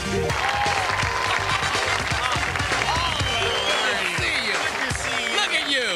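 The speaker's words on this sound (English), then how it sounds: "Gee, I'd hope the applause would carry you to the chair." Studio audience applause welcoming a guest onto a talk-show set, a dense steady clatter of clapping mixed with cheers, loud and continuous, with voices talking over it.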